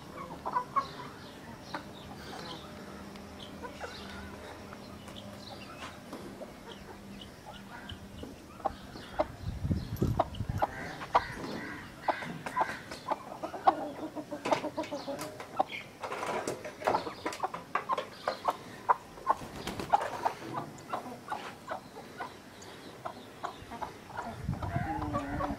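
Aseel hens cluck and squawk in a village yard, with irregular bursts of clucking and scratchy rustling that grow busier midway, close and moderately loud over a faint background hum.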